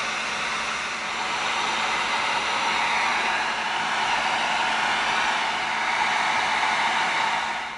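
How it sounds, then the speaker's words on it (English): A heat gun blows a steady, loud stream of hot air across EVA foam pieces being warmed for gluing on a Predator gauntlet build, a continuous broadband whoosh held evenly throughout with no talking. "now we're going to heat these up with the heat gun"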